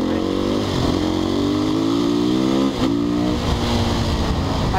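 A Husqvarna motorcycle accelerates in city traffic, its engine droning loud and close with rising revs that dip briefly and then climb again, steady throughout.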